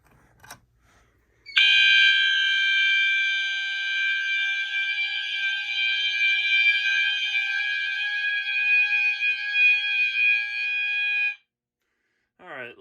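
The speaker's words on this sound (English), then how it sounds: "You can hear that strobe, the capacitor inside the strobe." A steady, high-pitched electronic whine from a fire alarm strobe's capacitor charging, loud and continuous for about ten seconds, then stopping abruptly.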